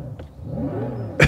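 Hyundai IONIQ 5 N electric car playing a simulated engine note, a brief low synthetic rumble that swells and ends in a sharp loud rev burst, heard close inside the cabin.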